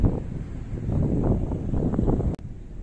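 Steady wind blowing outdoors at Intramuros in Manila, a continuous broadband rush with gusty swells and rumbling buffeting on the microphone, briefly cut near the end.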